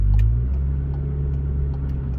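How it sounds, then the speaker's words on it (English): Volkswagen Golf 7 R engine idling in sports mode, a loud, close, steady low rumble with a slight rise at the start, heard alone without talk. "Okay, so I'm just gonna put it in sports mode, and it's a bit louder now."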